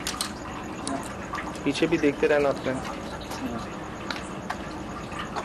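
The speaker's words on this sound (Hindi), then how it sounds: "पानी गिर रहा है, नल खुला हुआ है तो।" Water running from an open tap, a steady splashing flow heard beneath someone speaking.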